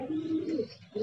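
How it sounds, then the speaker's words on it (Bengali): Pigeons of foreign breeds, including Giribaj, coo at a large pigeon farm in a steady, close rolling call that swells and dips for about a second, with no one talking. "সব বিদেশি জাতের কবুতর, গিরিবাজ জাতেরও আছে।"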